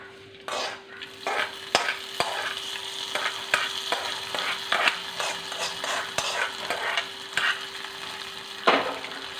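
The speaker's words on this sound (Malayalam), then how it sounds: "കടു വറുത്തേ നമ്മൾ ഇതിലോട്ട് ഒഴിക്കുവാണേ" A loud sizzle as hot oil with fried mustard seeds is poured into a pachadi, followed by crackling and spitting, with a few metallic clinks of a spoon against the pan.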